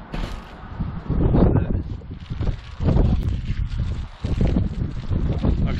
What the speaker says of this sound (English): Like I said, it is windy. I don't know whether you can hear the wind.